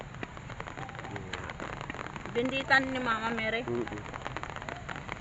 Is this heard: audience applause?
no